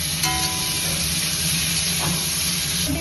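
Pumpkin pieces frying in oil that was already used for potatoes, a dense continuous sizzle and hiss heard close and fairly loud throughout, with no voices.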